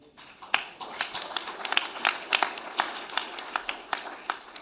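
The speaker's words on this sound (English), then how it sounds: "a big applause for him" Scattered hand clapping from a small group, sharp irregular claps at moderate volume, with no voices over it.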